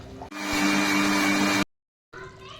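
An electric mixer grinder whirs loudly and close, grinding masala with water into a fine paste for Mangalore-style chicken curry; a steady whine runs over a second, stops, then starts again.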